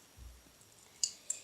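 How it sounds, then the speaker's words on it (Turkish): A pen with a red tip and navy body clicks open with two light, sharp clicks about a quarter second apart in an otherwise quiet room. "Buradan açıyorsunuz kalemi başla."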